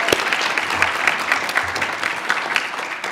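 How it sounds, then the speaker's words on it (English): Audience at a high school awards banquet applauding honored students, a lively continuous spatter of clapping with a few sharper individual claps standing out. "Let's give them a round of applause."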